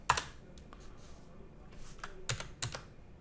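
Typing on a computer keyboard while creating an index.pug file: a few scattered clicks and short bursts of keystrokes, close and fairly quiet, with no talking.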